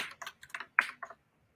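A short burst of typing on a computer keyboard, about eight crisp, close key clicks in quick irregular succession before falling silent.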